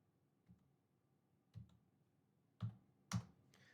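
A few sparse keyboard keystrokes, four separate clicks spaced about a second apart and growing slightly louder, close by in an otherwise quiet room, as someone types commands while setting up a Git repository.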